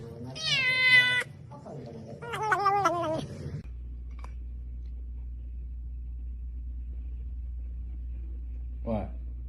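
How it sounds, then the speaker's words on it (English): A cat meows loudly in a couple of drawn-out, wavering calls up close, followed by a steady low rumble like a running car and one brief yowl near the end. "Whoa, what a cat!"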